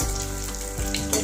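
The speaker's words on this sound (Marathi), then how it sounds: "अशाच पद्धतीने पुऱ्या टाकून घ्यायचा आपण आणि गॅस पुढेच राहून द्यायचा, म्हणजे पुऱ्या लवकर तळतात" Puris deep-frying in plenty of hot oil on a high gas flame, a steady close bubbling sizzle with no talk throughout.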